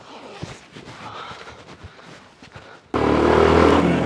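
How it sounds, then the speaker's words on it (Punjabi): A motorcycle is ridden with a low, muffled engine rumble and faint voices, then a sudden loud, rushing roar takes over for the final second. "ਹੌਲੀ ਚਲਾਇਆ ਕਰ ਮੋਟਰਸਾਈਕਲ"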